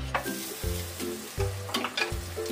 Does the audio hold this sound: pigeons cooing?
no